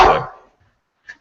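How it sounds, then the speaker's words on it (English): An indoor dog lets out one loud, sharp bark that decays quickly into silence, followed by a faint brief yip or whine near the end. "You got an angry dog, dude."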